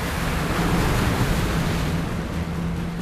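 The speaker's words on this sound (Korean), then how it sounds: "47톤에 육박하는 어선의 무게를 가늠케 하는 엄청난 물보라" Huge spray of waves crashing against a 47-ton fishing boat heading to its net-casting spot, a steady loud roar of water and wind noise with no break.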